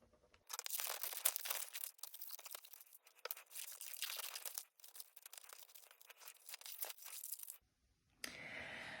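Scissors cutting through a paper pattern for a blazer and its lining, a close, continuous crisp snipping and rustling of paper with brief pauses, ending in a short gap and faint rustle.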